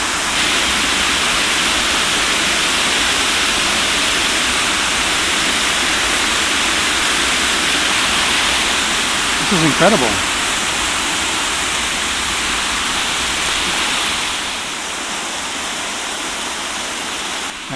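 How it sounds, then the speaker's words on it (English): Steady, loud rush of a forest waterfall in Vermont's Glastenbury Wilderness, a dense continuous roar throughout, with a person briefly speaking over it near the middle. "I just walked in off the road because I heard the waterfall."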